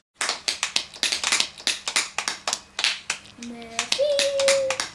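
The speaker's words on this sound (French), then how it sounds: "Applaudissez." Children clap hands during a Simon Says game, a quick, steady series of close claps that thins out, with a voice and a tonal sound rising near the end.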